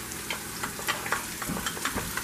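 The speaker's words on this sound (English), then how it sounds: "And we're going to saute the onion." Onion sautés in olive oil, a close, steady sizzle broken by a run of rhythmic scraping stirs across the pan, with no voices.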